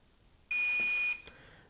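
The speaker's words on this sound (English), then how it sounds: "this is the recording feature, and it'll beep" A Promark VR device gives one sharp, high electronic beep lasting about half a second, followed by a fainter short blip, both close and clear against near silence.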